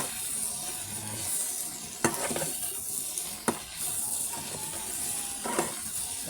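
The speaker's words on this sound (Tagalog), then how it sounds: "Repolyo na ginisa na may tokwat giniling" Cabbage with tofu and ground meat sautés in a pan, a soft continuous sizzle broken by several sharp clacks of a utensil stirring and scraping, with no one talking.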